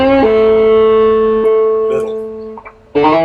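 A distorted electric guitar run through a triple-play pedal set just under full distortion, sustaining one loud held note with rich overtones, then a shift in pitch and a brief dip before a fresh strum rings out.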